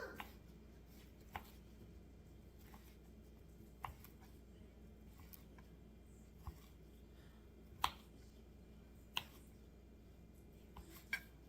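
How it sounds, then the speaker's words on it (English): A knife chops through sausage on a cutting board for a Cajun sausage and rice dish, giving sharp, separate taps at irregular intervals over a quiet kitchen background. "I'm going to cut the sausage up like this."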